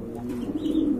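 Imported pigeons, a pair of large female birds offered for sale, coo in a steady low rolling murmur, close by and fairly soft, with no talking.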